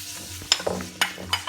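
Cookie dough with toasted sesame seeds and ground fennel is stirred by hand in a bowl, giving a few soft scraping, clicking strokes at close range and low volume.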